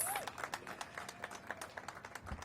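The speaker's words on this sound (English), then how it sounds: "Give her a big round of applause." Scattered hand claps from a small audience at a child care event at the Thaddeus Stevens School, a thin, fairly faint patter of separate claps rather than a full ovation, with a brief whistle-like tone at the start.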